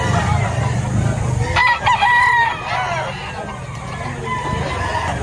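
A rooster crows loudly and close by at a chicken market in Lipa, Batangas, a single strained call rising over a busy background of other fowl clucking and faint market chatter.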